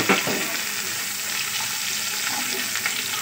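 Chicken 65 fries in hot oil with a loud, dense, continuous sizzle close by, a brief crackle at the start and no talk.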